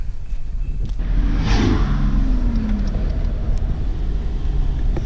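Nissan R31 rolling up with a steady low engine rumble close by, a brief swelling whoosh as it moves in, then a continuous idle-like drone with no talk.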